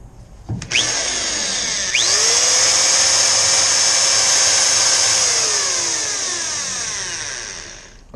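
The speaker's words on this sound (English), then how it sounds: "I'm gonna use this step drill, which is a lot safer and makes it a lot nicer hole than a twist drill" A big corded drill fitted with a step bit bores holes during a pressure-wash trailer build, spinning up and holding a loud, steady high whine close by for several seconds before it slowly eases off.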